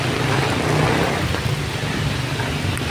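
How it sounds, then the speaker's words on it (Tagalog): Steady heavy rain from Typhoon Kristine pours continuously, a dense wash of noise with a low rumble underneath, no voices. "Lakas ng ulan guys."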